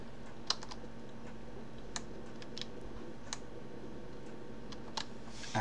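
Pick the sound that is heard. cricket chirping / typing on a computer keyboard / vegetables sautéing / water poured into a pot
typing on a computer keyboard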